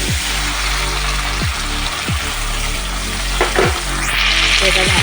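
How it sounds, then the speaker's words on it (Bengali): Spiced sour curd and tomato ketchup frying in a pan for a prawn curry, a loud continuous sizzle close by with a few scraping stirs of a spoon cutting through. "এটা ভালো করে কষিয়ে নিই।"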